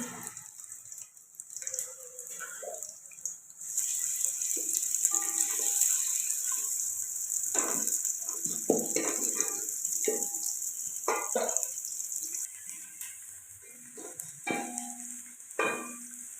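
Onions hit hot oil in a pan for a moringa flower and meat curry, sparking a loud steady sizzle that carries on as they are stirred with clinks and scrapes.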